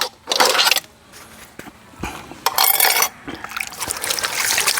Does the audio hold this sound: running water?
yes